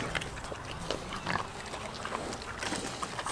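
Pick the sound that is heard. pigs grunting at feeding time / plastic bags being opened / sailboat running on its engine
pigs grunting at feeding time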